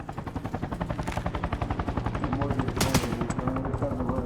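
In the video game Arma Reforger, a rapid stream of gunfire rattles steadily, a fast repeating burst that carries on for several seconds with a sharper crack near the end.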